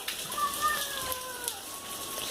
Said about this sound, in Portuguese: É a chuva. Tá chovendo.